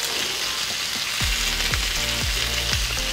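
Ribeye steak sizzles steadily in a pan with rosemary, garlic and butter, a close, continuous frying hiss with a few faint regular clicks underneath, no voices.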